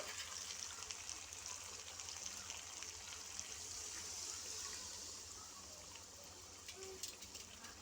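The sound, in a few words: water poured into pan of chicken kosha curry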